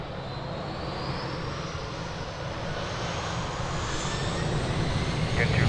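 An airliner takes off from runway 02 at Lisbon Airport, a steady broadband engine roar building slightly over several seconds, with a faint radio voice underneath.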